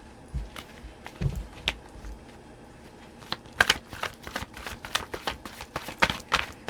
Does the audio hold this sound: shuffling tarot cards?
yes